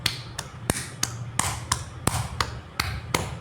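Rhythmic percussive tapping on a person's back during a nursing back-care massage, a quick run of about a dozen sharp, close taps in a steady beat over a low background hum.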